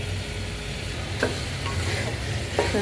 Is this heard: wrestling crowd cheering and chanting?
no